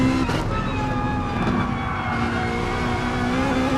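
A Trofeo Motorsport Lamborghini race car in a racing game on the Green Hell circuit, its engine droning steadily with a sustained tonal whine, loud and continuous without a break.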